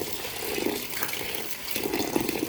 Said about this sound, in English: I will start washing the grains thoroughly with both hands as seen to get rid of dirt and sands.